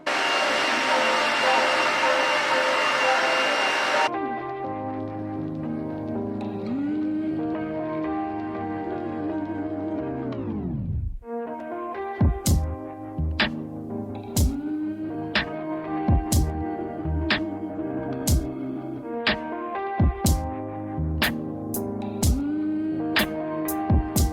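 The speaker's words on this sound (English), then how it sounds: "I'm just going to go ahead and get started and blow dry my hair" A steady broadband roar like a blow dryer runs for a few seconds, then cuts out and restarts, interrupted by clicks and shifting motor pitch.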